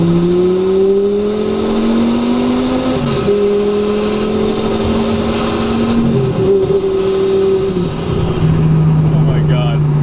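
A 1,040-horsepower modified Lamborghini Gallardo accelerates hard, a loud, sustained engine howl climbing through gears with brief drops at each shift, heard from inside or close by.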